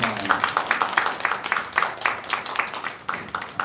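A church congregation at a Sunday worship service applauds in a brisk, sustained burst of many overlapping claps, fairly close and lively throughout.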